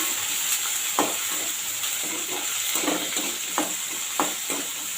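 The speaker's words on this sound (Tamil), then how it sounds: "இதை வந்து நல்லா கிளறி விட்டுறலாம்" Onions and a sprig of curry leaves fry in a pan for tamarind curry, giving a steady, close sizzle broken by several sharp scraping strokes of a spoon stirring them.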